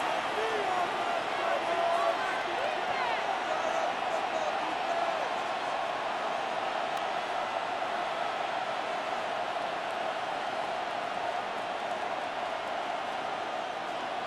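Steady stadium crowd roar in Madden NFL at a Seattle Seahawks versus San Francisco 49ers game, a dense, continuous wash of noise that holds level throughout without breaks.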